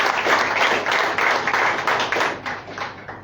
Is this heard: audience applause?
yes